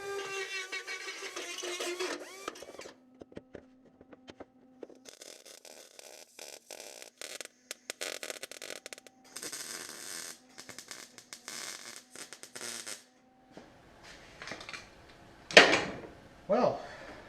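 Welding tacks on the steel scuttle and rain tray of an A2 replica, heard as intermittent crackling buzz bursts separated by pauses, with some louder clanks near the end.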